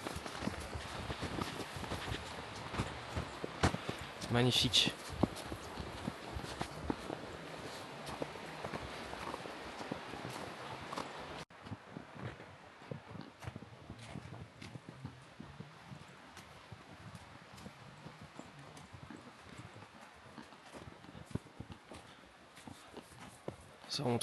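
A horse walks through snow in Kyrgyzstan with a rider and guide, its soft crunching hoofsteps falling in an uneven rhythm under wind and rustling, with someone briefly speaking.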